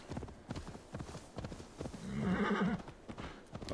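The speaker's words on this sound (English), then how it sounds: "Sorry, horsey, you're tired." Horse in Assassin's Creed Valhalla clip-clopping then letting out a loud, drawn-out whinny midway, close and clear, with hoofbeats resuming after.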